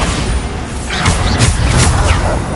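A Bombarda blasting spell in Hogwarts Legacy goes off with a heavy boom, followed by a rolling, crackling explosive roar that stays loud and dense throughout.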